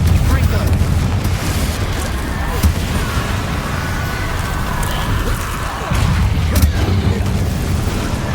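A Confringo blasting spell explodes in Hogwarts Legacy with a loud, rumbling blast. The roar is dense and sustained and surges again near the end.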